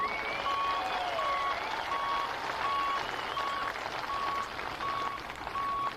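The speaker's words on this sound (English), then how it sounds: "One more round of applause." Steady crowd applause for a veteran at a charity truck and tractor pulling night in Hillsboro, Wisconsin, filling the whole stretch with continuous dense clapping while a repeating reversing beep pulses regularly in the background.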